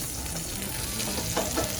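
A cheese-topped turkey burger patty sizzles on a grill with a steady close hiss, a couple of light scrapes near the end as it is lifted off.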